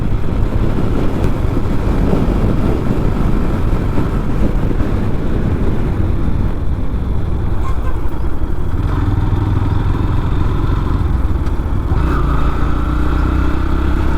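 A Yamaha FZS V3 motorcycle cruising at highway speed between Shirdi and Mumbai, a loud continuous engine drone mixed with heavy wind rush, steady throughout with no pauses.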